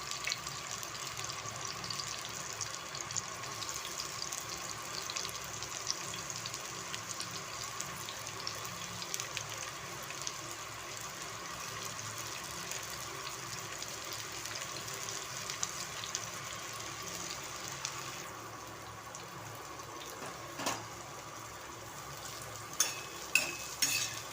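Onions cooking in a pan for a drumstick (shevga) vegetable dish, with a steady soft sizzle and occasional stirring scrapes, close and fairly quiet, with no speech over it.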